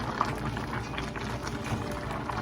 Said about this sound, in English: See all that red sauce that's plopping all up inside that skillet?